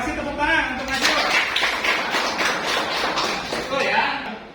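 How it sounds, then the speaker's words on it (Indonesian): A classroom of students claps for a classmate, a dense burst of applause lasting several seconds with a brief lull before a final flurry, mixed with children's voices. "Kasih tepuk tangan untuk Najrul."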